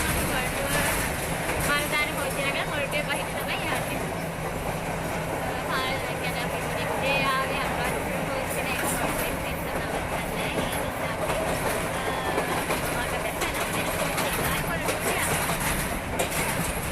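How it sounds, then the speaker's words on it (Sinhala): A passenger train bound for Maradana rolls toward Moratuwa station, heard from inside with continuous rumble, rattling carriages and clickety-clack of wheels throughout, while people talk faintly in the cabin. "මේක මරදාන යන කෝච්චියක් මොරටුවේ ස්ටේෂන් එකේ නවත්තනවා"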